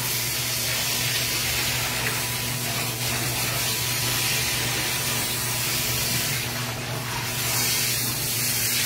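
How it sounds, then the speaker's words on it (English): A pet bathing system recirculator sprays water steadily to rinse a dog with conditioner, a loud continuous hissing spray with constant churning water and a low pump hum throughout. "I'm rinsing her again with a conditioner in the recirculator"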